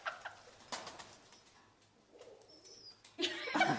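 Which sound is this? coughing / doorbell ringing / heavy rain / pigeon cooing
pigeon cooing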